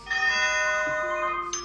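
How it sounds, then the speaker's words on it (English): After the doorbell is pressed, an Akuvox IP intercom door station calls its monitor with a clear, steady electronic ringing tone that sounds close and alone, with a brief chirp near the end. "So when I press the doorbell, it will call the monitor and my phone without any setup whatsoever."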